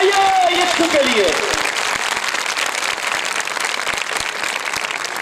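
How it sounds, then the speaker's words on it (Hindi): A congregation at a church prayer meeting in Chichawatni, Pakistan bursts into loud, sustained applause just after a voice, the clapping filling the room and holding steady to the end. "जोरदार तालियां बजाइए यीशु के लिए।"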